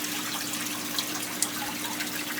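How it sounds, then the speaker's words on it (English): Waterfall in a discus aquarium babbles steadily like a small brook, a constant close trickle and splash with occasional brighter drips. "the waterfall behind us gives the sound of a little babbling brook all the time in here"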